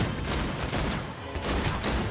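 Dense, continuous roar of gunfire in Cyberpunk 2077, loud and close, a rapid volley of shots blending together across the whole stretch, with a brief dip midway and no talking over it.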